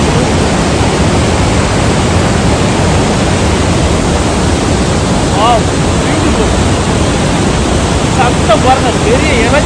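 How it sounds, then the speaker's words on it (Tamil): The Rhine Falls, Europe's largest waterfall, roars in a loud, unbroken wash of rushing water that fills the whole clip, with a few faint bird chirps just audible beneath it. "சத்தம் பாருங்க, பெரிய இறைச்சல், கும்மாளம் விட்டு ஆர்ப்பாரமாக விழுகிறது பாருங்க."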